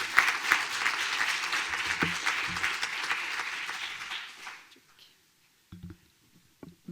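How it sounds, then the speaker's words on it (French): An audience at a conference on fighting violence claps loudly for about four and a half seconds, then the applause fades away, leaving a few faint scattered sounds. "On peut l'applaudir."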